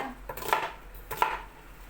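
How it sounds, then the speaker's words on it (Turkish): Two crisp knife chops through eggplant on a cutting board, spaced about a second apart, close and fairly loud over a quiet background. "Şöyle iri iri doğradım. Çok küçük doğramadım."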